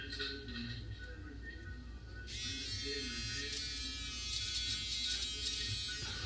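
An electric razor switches on partway through and buzzes steadily while shaving a head. The sound is close and continuous, with a quieter hum before it starts.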